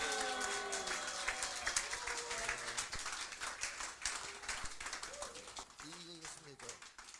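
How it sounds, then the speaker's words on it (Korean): A lecture-hall audience at a special public lecture claps steadily to welcome the speaker, a dense patter of many hands that thins toward the end while a voice talks over it. "큰 박수로 환영해 주십시오"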